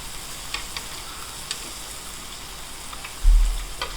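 Beef sizzling on a grill, a steady fizzing crackle with occasional sharper pops and a brief low thump near the end, close and continuous with no talking.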